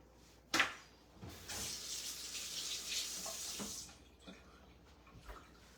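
Hands are washed under a running kitchen tap while meatballs are prepared, a faint steady hiss of flowing water lasting a few seconds after a short knock, with quiet background noise.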